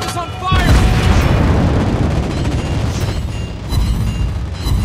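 Anti-aircraft guns of an Italian cruiser in the World of Warships Blitz naval game rumble in a dense, continuous barrage of booms and bursts, loud and close. Faint game voice lines sit underneath.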